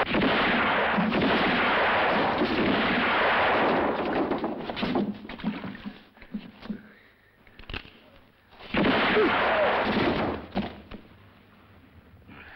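Revolver gunshots in a 1966 Sergio Leone spaghetti western, loud booming bursts with long echoing reverberant tails, two heavy volleys separated by a quieter lull with faint rumbling.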